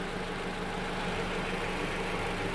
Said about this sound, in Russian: Двигатель шепчет.